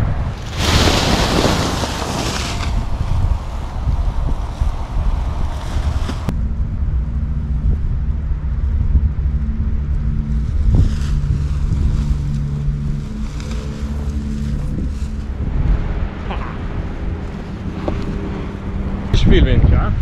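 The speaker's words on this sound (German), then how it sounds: "Viel Wind, ja." Strong wind buffets the microphone outdoors, with heavy roaring gusts at the start easing into a steady rushing noise. A low engine-like hum runs beneath much of it, and brief voices come through in places.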